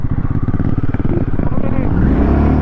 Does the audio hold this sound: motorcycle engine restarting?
yes